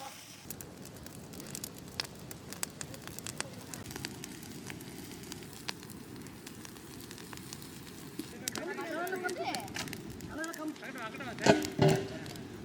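A village wood fire burns for underground cooking of a whole goat stuffed with chicken, crackling and popping steadily at close range, with people talking over it.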